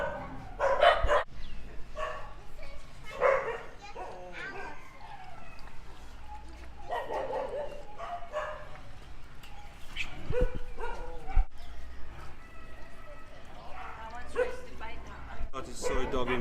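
Dogs at the Soi Dog shelter in Phuket bark, yip and whimper while playing, with bursts of barking around steady nearby human talk.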